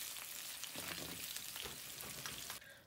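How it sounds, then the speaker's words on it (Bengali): Fried lentil fritters sizzle as they are stirred into a tamarind gravy in a hot pan, a continuous frying hiss with scraping stirs that drops off at the end. "এবার আমি এর মধ্যে দিয়ে দেব বড়া ভাজাগুলো।"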